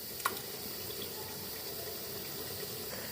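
Water poured into a pan of potatoes while cooking aloo palak, a steady, moderately quiet stream of liquid running alone for a few seconds after a brief clink at the start.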